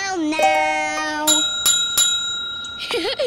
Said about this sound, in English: Ring your bell now.